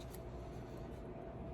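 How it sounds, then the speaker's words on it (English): Scissors cut along a line through paper in a bullet journal, a brief, close, soft snipping and rustling with no talking. "Scissors to the rescue. Just cutting down that line."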